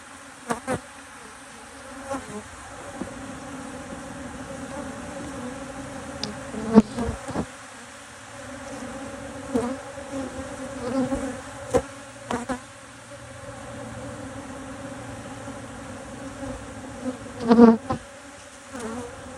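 Honey bees buzz steadily around an opened hive during a hive split with virgin queens, a close swarm hum with individual bees zipping past the ear now and then.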